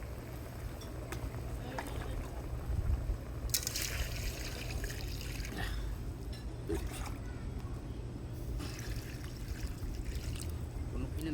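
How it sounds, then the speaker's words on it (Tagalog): Water is poured into a cooking pot while making sinigang na monggo, a steady splashing rush running throughout at moderate level, with faint voices in the background. "Lagyan ng tubig."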